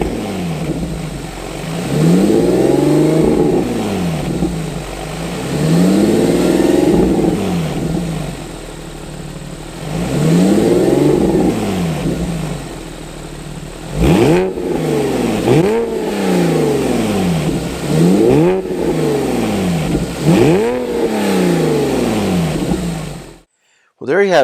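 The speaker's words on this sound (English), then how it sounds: "Now let's rev up the engine and see how the exhaust sounds" A Porsche 997 engine revs repeatedly through a center muffler bypass exhaust, several long rising and falling sweeps giving way to quicker sharp blips, loud and close, before cutting off abruptly at the end.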